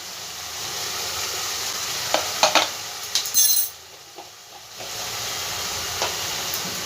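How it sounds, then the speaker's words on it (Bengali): Spices with Kashmiri red chili powder and salt fry in a pan, producing a soft steady sizzle broken by spatula scrapes and brief clinks, easing quieter for a moment before the hiss returns. "খুব ভালো করে মশলাটা ভাজতে থাকবো যতক্ষণ না মশলা থেকে তেল ছেড়ে দিচ্ছে।"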